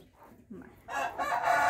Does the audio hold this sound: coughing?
no